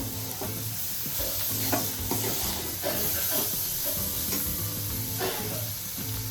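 Chopped tomato sizzles and hisses in a spiced masala in the pan, with repeated scraping stirs breaking the steady frying noise at close range.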